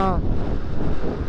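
Strong wind buffets the microphone during a motorbike ride on a mountain road toward Mustang, a steady loud roar with a brief voice at the very start.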